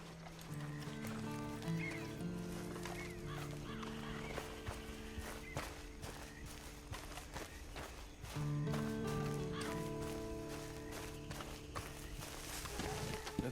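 A horse in the video game Red Dead Online clip-clops along at a walk with rhythmic hoofbeats, snorts and a brief whinny, mixed with game ambience and some background speech.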